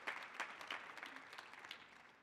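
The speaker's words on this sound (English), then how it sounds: "Let's give them all another big round of applause." Audience applause after school music performances at a youth music festival on a concert stage: scattered, fairly faint clapping that flickers on and off for a couple of seconds, sounding somewhat distant.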